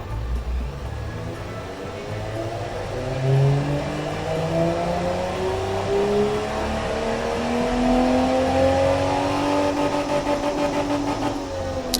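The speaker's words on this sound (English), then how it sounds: "Usually the first time I run an engine it blows," A simulated car engine from the Automation car-building game, set in 1969, runs a test and revs steadily upward, its rising tones sweeping continuously and loud throughout with no talk.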